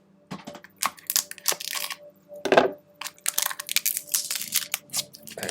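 Paper packaging for a book is torn and crinkled open at the other end, with several bursts of rustling, crunching and ripping separated by short pauses and close to the listener.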